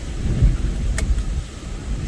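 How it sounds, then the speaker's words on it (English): Hurricane Ian's winds roar and whistle around a car in Fort Myers, Florida, a steady, loud, buffeting rush with low rumbling gusts and no talk. "The car's whistling, buildings are whistling."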